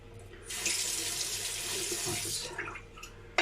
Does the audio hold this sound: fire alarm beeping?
no